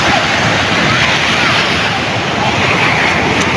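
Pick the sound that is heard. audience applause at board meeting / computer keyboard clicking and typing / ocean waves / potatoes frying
ocean waves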